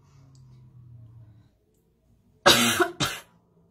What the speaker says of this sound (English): Excuse me if I cough